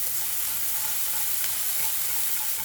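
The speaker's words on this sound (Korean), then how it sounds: "미트볼을 제거한 팬에다가 바로 오일을 조금 부어주시고요. 아까 다진 마늘, 양파를 넣어 주시고요. 버터 약간" Minced garlic, onion and a little butter fry in oil in a pan just emptied of meatballs, making a continuous, even hiss of sizzling with no talk.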